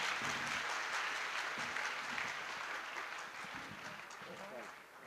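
At a school poetry gathering (kavi sammelan), an audience bursts into sustained applause that gradually fades toward the end, with someone speaking over the clapping.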